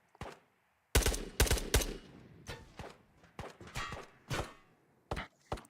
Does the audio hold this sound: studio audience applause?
no